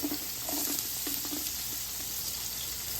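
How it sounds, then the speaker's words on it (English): Sliced garlic sizzling and frying in hot olive oil in a pan, a steady close crackle with a few brief stirring clinks, no talking. "We add the laminated garlic"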